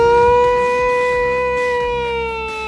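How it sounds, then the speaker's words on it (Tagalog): Loud, steady wailing siren like an ambulance's, heard near a seaside resort with open cottages, its pitch holding nearly level and fading slightly over a few seconds with no talk. "Parang ambulansya."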